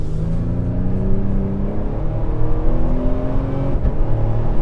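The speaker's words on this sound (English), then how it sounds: "If you just listen to those shifts with this exhaust, it is nice and crisp." A tuned 2022+ Toyota Tundra with an aftermarket exhaust revs hard through its gears, its engine note rising in pitch and then dropping at each crisp shift, loud and close.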